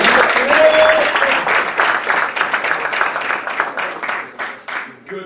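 Clapping at a men's soccer team banquet, the applause loud at first and then thinning into scattered, uneven claps that fade out near the end.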